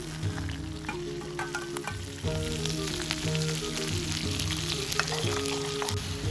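Chili frying in a pan for desi kadhi gives a close, continuous sizzle with fine crackling and popping spatters, fairly quiet and steady under a low background tone, with no voices.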